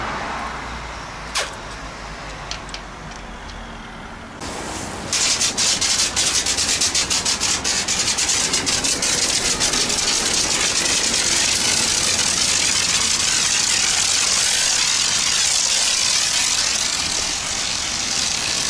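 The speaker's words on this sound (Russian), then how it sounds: "Сейчас обрызгаем всю машину пеной." Pressurized foam spraying onto a car at a coin-operated self-service car wash, a loud continuous hissing rush that starts after a quieter stretch with a few clicks and runs steadily to the end.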